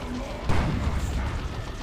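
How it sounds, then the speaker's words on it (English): A D-cannon fires in a Warhammer video game, a single dull boom soon after the start that rumbles off into low mechanical battle noise, fairly faint overall. "that D-cannon can still fire on her"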